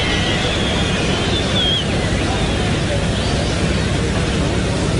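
A strong west wind blows over the Parc des Princes stadium at a 1959 France versus Spain football match, heard as steady broadband roaring and buffeting noise that fills the whole recording.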